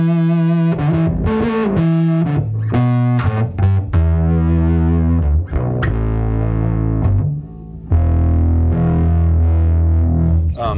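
A distorted bass guitar chord played through a SpectraDrive bass preamp on the Dark Horse TonePrint rings out loud and sustained, struck several times in a row with a gritty, thick, buzzing tone and no talk.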